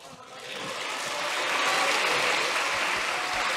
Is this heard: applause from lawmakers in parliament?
yes